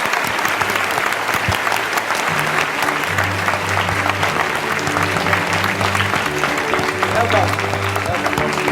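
Audience applause welcomes an award recipient at a ceremony in Hong Kong, steady enthusiastic clapping from a large crowd throughout, with a voice speaking over it.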